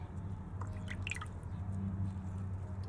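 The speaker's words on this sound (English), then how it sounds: "Squeeze out excess water." Water squeezed from a wet tea-bag-like compost bag at an allotment drips down in a few soft, quick drops over a low, steady background hum.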